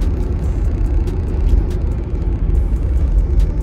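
Steady road and wind noise fills the cabin of a BYD Sealion 7 on the move, a low even rumble with a faint airy whistle riding above it, no voices.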